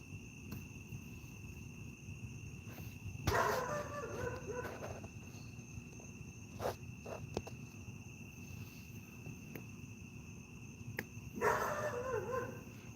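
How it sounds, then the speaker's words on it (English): A neighbor's dog barks at night, two distant bursts of barking several seconds apart over a steady chirping of insects. "This neighbor dog of mine is getting on my nerve"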